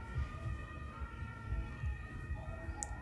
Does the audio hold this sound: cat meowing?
no